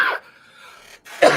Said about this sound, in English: I think I'm coughing up part of the garden